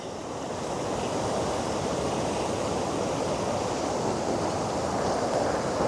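Floodwater rushing over the spillway of the Muthaiyankattu tank in a loud, steady roar of fast-moving water, continuous and close, with wind buffeting the microphone and no talk.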